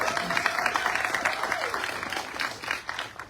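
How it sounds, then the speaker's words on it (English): A room full of people applauding at a police promotion ceremony, steady dense clapping at close range throughout, with no voices over it. "Let's give Mr. Goulding a round of applause."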